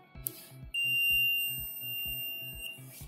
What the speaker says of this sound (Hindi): इसके बाद मल्टीमीटर की बीप वाली रेंज, कंटिन्यूटी वाली रेंज